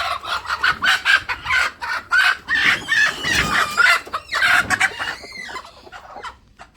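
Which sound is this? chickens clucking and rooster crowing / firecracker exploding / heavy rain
chickens clucking and rooster crowing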